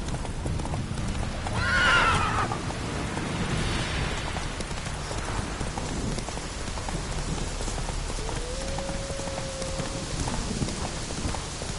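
Roach, Geralt's horse in The Witcher 3, gallops with steady clip-clopping hooves over falling rain and lets out a clear neigh near the start, the hoofbeats continuing throughout.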